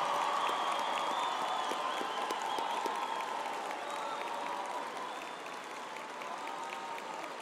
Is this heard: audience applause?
yes